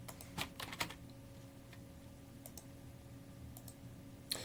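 Quiet desktop computer clicks while opening a Quake 3 Arena map file, a quick cluster of crisp clicks at the start and one more near the end over a faint steady hum.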